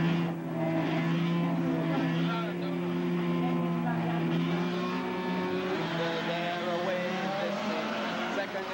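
Classic racing cars at Wallerfield, Trinidad, drone around the track, a steady engine roar from several cars at moderate distance, with a race commentator talking over the sound throughout.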